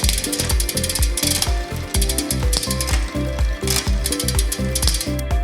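On a 12-speed mechanical groupset, the bicycle chain clicks and rattles across the cassette sprockets with a rapid, rhythmic mechanical ticking of pawls and gears. The sound is loud and close, with no talking.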